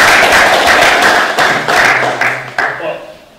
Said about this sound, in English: Round of applause for Ms. Burke.